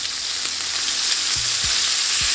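Oil crackles and hisses steadily as chicken fries in a pan, a dense sizzle with a few soft low knocks near the end.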